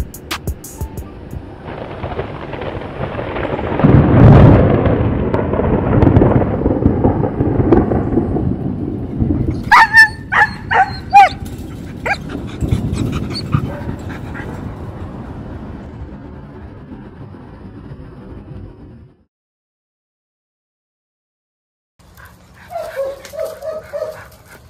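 German Shepherd dogs in protection bite work training, barking sharply in loud, irregular bursts over steady rumbling noise, then a pause of near silence before a few more barks near the end.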